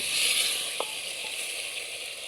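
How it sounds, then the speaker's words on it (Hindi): Desi chicken sizzles steadily as it fries in desi butter, a continuous close hiss with a brief spit partway through, no voices. "इसको 1-2 मिनट भुनाई करेंगे मक्खन के साथ"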